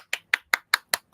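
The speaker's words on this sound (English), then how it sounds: "Everybody clap your hands." Hands clap six times in a quick, evenly spaced rhythm, each crisp clap close and distinct with silence between, no voices.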